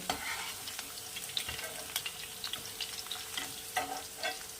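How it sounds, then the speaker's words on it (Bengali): Potatoes frying in oil for a Bengali pabda fish curry, a steady close sizzle with scattered crackles and light clinks of stirring, no voices. "এটা একটু হালকা লাল করে ভেজে নেব। আলুটা এখানে ভাজা হয়ে গেছে"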